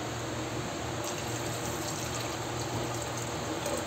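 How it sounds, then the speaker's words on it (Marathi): Water is poured into a pressure cooker in a kitchen, a continuous even rushing pour that stays steady throughout. "तर त्याच्यामध्ये पाणी टाकते।"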